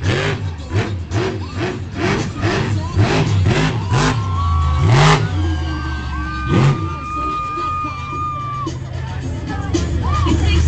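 A monster truck at a Monster Jam event in an arena, its engine revving in repeated rising and falling bursts alongside crowd noise, while an announcer talks over it.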